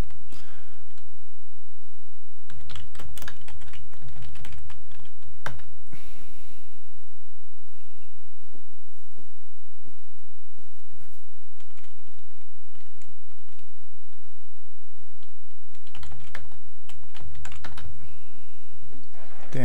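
Steady clicking of typing on a computer keyboard during BASIC programming, in dense bursts with short pauses, close and loud, with occasional breathing.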